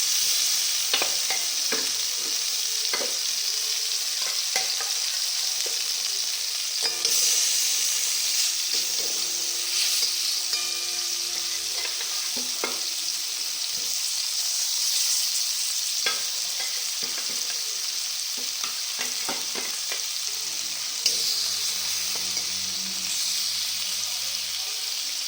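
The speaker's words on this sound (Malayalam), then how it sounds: "മുളക് പൊടി, മഞ്ഞൾപ്പൊടി, വെളുത്തുള്ളി, നാരങ്ങനീര് ഒക്കെ മിക്സാക്കി വെച്ച സ്രാവ് എണ്ണയിൽ ഫ്രൈ ചെയ്തെടുക്കുക" Shark pieces marinated in chili powder, turmeric, garlic and lemon juice fry in oil with a steady, close hiss and crackle, punctuated by occasional scrapes and clinks of stirring.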